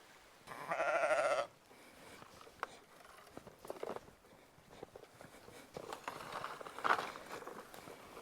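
Lambs bleat in a lively farm barn on an off-grid island farm, one loud nearby bleat early on followed by fainter calls, with scattered footsteps and rustling in between.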